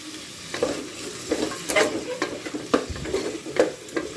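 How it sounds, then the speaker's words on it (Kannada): Onions, green chilies, ginger and garlic frying on a high flame for chicken donne biryani: a steady close sizzle broken by repeated scraping stirs, with no voices. "ಇದಕ್ಕೆ ಚೆನ್ನಾಗಿ ಹೈ ಫ್ಲೇಮಲ್ಲೇ ಚೆನ್ನಾಗಿ ಫ್ರೈ ಮಾಡಬೇಕು"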